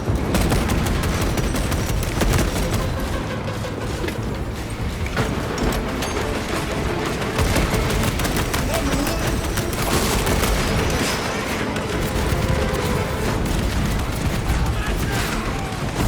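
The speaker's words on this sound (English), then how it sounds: "Deploying frag grenade!" Space Marine 2 combat on PS5 Pro: heavy, continuous gunfire with booming blasts from a frag grenade, loud and dense, with game voices calling out over the battle.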